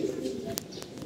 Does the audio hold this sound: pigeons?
yes